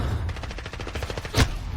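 Rapid automatic fire from an MP7 submachine gun in the Call of Duty Modern Warfare video game, a quick burst of evenly spaced shots followed by a heavier blast, no speech.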